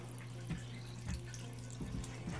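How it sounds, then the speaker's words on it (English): Water drains from a mini mill enclosure, a faint steady trickle with soft gurgles and occasional drips, heard alone without talk. "everything seems to be draining okay"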